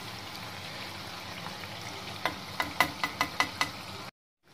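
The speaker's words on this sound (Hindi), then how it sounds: "हम इनको टर्न करेंगे और दूसरी साइड से भी अच्छे से सेक लेंगे" Jalebis frying crisp and brown in hot oil in a home kitchen, a soft steady sizzle with a rapid series of sharp taps and clinks as they are turned over, ending abruptly in silence.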